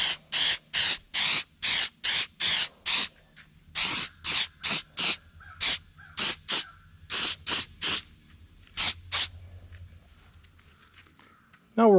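Short repeated bursts of a spray gun laying down a two-part automotive gloss coat on a muskie fish replica, about a dozen close, loud hisses of roughly half a second each with brief gaps, thinning out toward the end.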